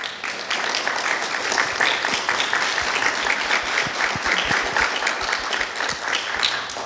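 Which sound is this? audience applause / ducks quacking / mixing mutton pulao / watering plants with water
audience applause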